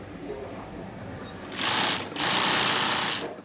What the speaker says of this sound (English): This bit is called zigzagging because the stitches make a zigzag pattern.